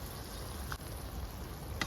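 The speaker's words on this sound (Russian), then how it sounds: "Вода ушла, масло уже кипит." Oil bubbles and sizzles under rice for pilaf in a cauldron set over an open fire outdoors, a faint, steady frying hiss with small pops, heard alone without talk.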